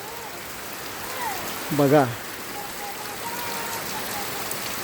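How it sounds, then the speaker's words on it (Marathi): The first heavy monsoon rain in a village area hisses down in a constant, dense patter, while someone briefly speaks over it near the middle. "आज हा तलावलीच्या एरियामध्ये बघा किती पाऊस पडत आहे"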